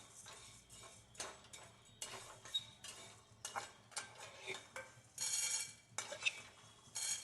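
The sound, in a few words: transferring roasted sago from pan to plate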